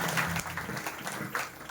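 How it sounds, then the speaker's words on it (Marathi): An audience at a Marathi kirtan claps together in steady applause, a dense, continuous patter of many hands at moderate volume with no speech. "एकदा टाळी वाजवा जोरदार."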